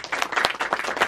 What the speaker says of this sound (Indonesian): Tepuk tangan buat Kristen